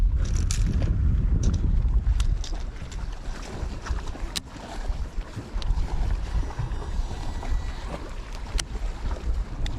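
A boat motor rumbles over choppy water while gusts of wind buffet the microphone, loud and continuous, with splashing and knocking throughout.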